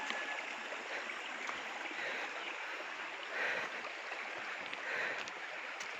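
A mountain stream flows near Cambais Falls in Alegria, Cebu, a continuous, quiet broadband rush of water that holds steady from start to finish, swelling slightly twice, with no speech.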